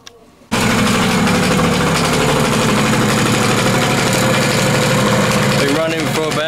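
A 1985 Yamaha PW80 dirt bike's small engine starts and then idles steadily and loudly close by, with a busy rattling buzz that holds for several seconds.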